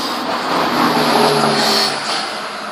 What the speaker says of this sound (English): Never seen this many cars on this road before.